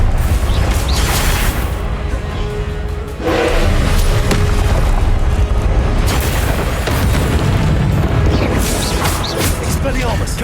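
In Hogwarts Legacy, a Confringo spell's explosion sounds as a heavy, roaring blast that stays loud and rumbling throughout, with a brief dip and then more crashing booms.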